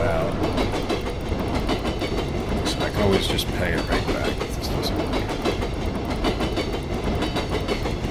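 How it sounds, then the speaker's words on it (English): A train in a farming video game rumbles loudly past with a dense, continuous clickety-clack of rail wagons, steady throughout while someone talks over it. "That train is awful loud."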